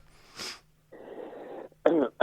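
A short throat sound, then a rasping exhale and two sharp coughs close to the microphone, with no speech.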